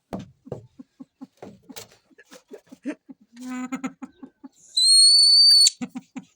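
Soft clicking and chirping sounds lead up to a loud, clear, sustained whistled note that swoops slightly, then the soft chirps return.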